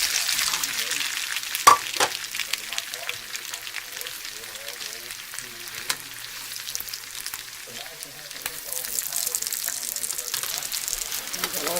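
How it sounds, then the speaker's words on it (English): Potatoes for home fries going into a hot oiled pan, a close steady frying sizzle with a sharp splash and occasional clatter, and a voice talking quietly over it. "start putting in the potatoes"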